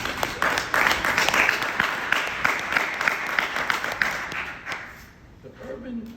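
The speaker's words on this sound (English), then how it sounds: "Give them a round of applause," Audience applause at a community wellness event, with scattered, distinct claps up close at first, then tapering off and fading near the end.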